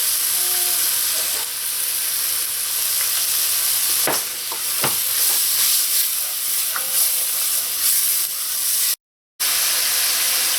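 Vegetables and onions sautéing in a pot with salt and black pepper for a smoked turkey bone soup, giving a steady sizzle and hiss with a few clinks of stirring and a brief dropout near the end.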